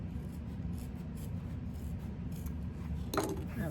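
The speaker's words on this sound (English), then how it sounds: "So I'm going to trim the seam allowance down to about 1/8 of an inch to release that bulk there." Scissors trim a sewn fabric seam allowance close to the stitching, producing quiet, soft rubbing and snipping sounds nearby with a brief louder snip near the end.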